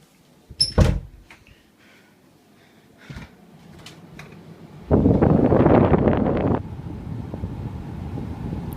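A Sharp window air conditioner in a bedroom, switched to high, gives a few sharp knocks and clicks, then a loud burst of rushing air for about two seconds that settles into a steadier, softer blowing hiss.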